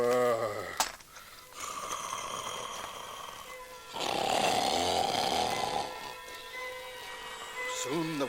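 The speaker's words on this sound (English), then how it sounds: "the castle trembled with his snores" A giant's exaggerated snoring in a Jack and the Beanstalk story recording, made by a human voice: loud, drawn-out rumbling snores with throaty breaths, swelling strongest midway, close and dramatic.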